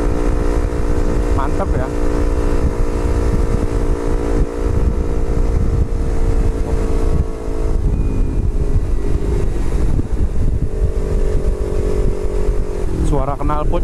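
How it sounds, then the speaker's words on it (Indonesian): Motorcycle engine and exhaust droning steadily and loudly while riding on a smooth road, with wind buffeting the microphone and someone speaking briefly over the engine. "Suara knalpot juga jelas kalau pakai media mode itu."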